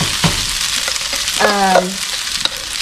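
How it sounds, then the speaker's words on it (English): Old leftover rice crisping in a hot pan for kimchi fried rice, a loud close sizzle with occasional stirring scrapes and a brief tonal squeak partway through, no speech. "we are going to dump our rice in here. And the key to this is, because it is old rice, let's go ahead and crisp it up"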